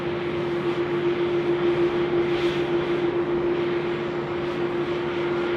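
A UPS Boeing 747-8 freighter taxis at Sydney Airport, its jet engines giving a loud, steady roar with a constant droning hum and no voices.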